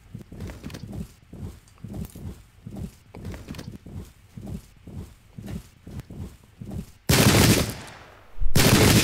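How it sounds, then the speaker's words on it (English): British sharpshooters fire a volley in a Zulu War battle video game, a sudden loud burst of massed musketry crashing in near the end, preceded by a long run of rhythmic thudding clip-clop and footsteps. "that's a beautiful volley, and you see right there the power of the British sharpshooters"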